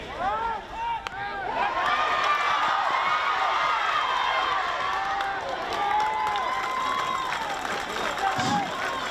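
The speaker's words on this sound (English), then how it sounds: "A round of applause for our sacrifice bunt by Liberal." Crowd applause for a sacrifice bunt at a baseball game between CNMI and Palau: steady clapping and cheering from a large gathering holds throughout, loud and continuous, with shouting voices mixed in.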